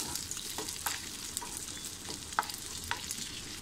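Charoli seeds and dates dry-roasting in a pan, giving a soft, steady sizzle with scattered light clicks and scraping taps as they are stirred, close by and fairly quiet.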